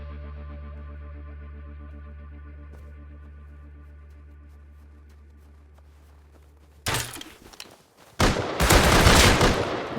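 A burst of gunfire erupts in the survival video game Rust, with loud sharp shots near the end after a quiet stretch of humming game ambience.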